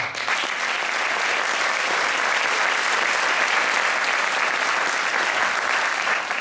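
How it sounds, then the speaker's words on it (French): Dense, steady applause from an audience at a school jazz band concert, a sustained wash of many hands clapping with no break. "donc une bonne main d'applaudissements."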